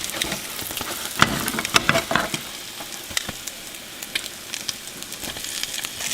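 French toast frying in a hot pan, a steady close sizzle with bursts of crackle and spatter, louder in the first few seconds then settling to a softer hiss.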